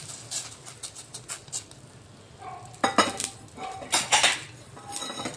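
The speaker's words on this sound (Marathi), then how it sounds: "आता आपण हा लसूणचा तडका यामध्ये टाकायचा आहे" Garlic tempering poured into a fenugreek and peanut vegetable dish brings sharp metallic clinks of a spoon against a pan, scattered stirring scrapes and a faint sizzle, irregular and close.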